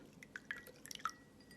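Mint water drips from a squeezed cotton cleansing pad: a quiet run of about half a dozen close, bright plinking drops, irregularly spaced over a second and a half, with no talking.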